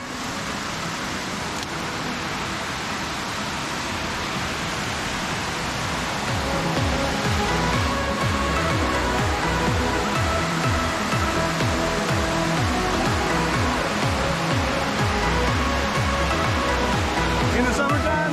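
Water rushes steadily down Clarendon Falls, a sloping slide waterfall in New Brunswick, a loud, dense, continuous roar heard close up that swells slightly partway through, with a faint voice now and then underneath.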